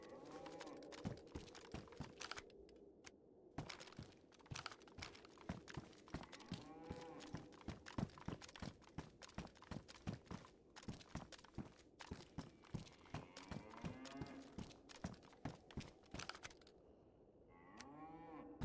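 Cows moo in a snowy Chernarus level of the game DayZ, a series of low drawn-out lowing calls while rapid keyboard clicks rattle throughout and someone talks in places.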